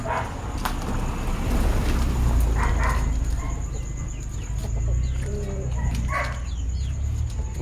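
Shamo chickens clucking and calling on a farm over a steady low rumble of outdoor background noise, with a few brief bird-like calls standing out.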